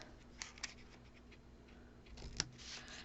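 Scissors snip through a thin strip of adhesive cling in several small, crisp clicks and scrapes, close by and fairly quiet.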